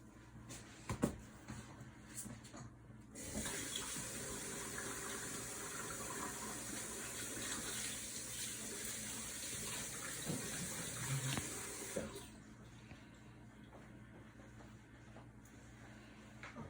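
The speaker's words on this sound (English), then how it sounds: "I'm just gonna go wash my hands before we begin." Running tap water pours steadily for about nine seconds while hands are washed, preceded and followed by quieter handling clatter in a clinical room.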